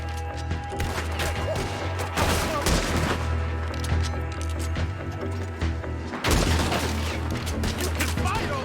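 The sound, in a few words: gunshots in the video game Red Dead Redemption 2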